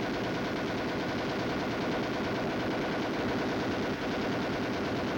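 An M73 7.62mm lightweight, air-cooled machine gun fires a dense, continuous automatic stream, loud and unbroken throughout.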